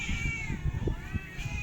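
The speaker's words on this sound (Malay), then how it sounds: "Bayangkan dekat kedai makan bising macam ni suara kucing tengah minta makanan ya." A cat meows insistently for food, a drawn-out whining call followed by a shorter second meow, heard close up over background noise.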